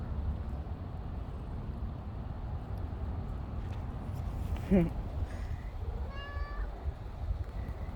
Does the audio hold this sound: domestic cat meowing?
yes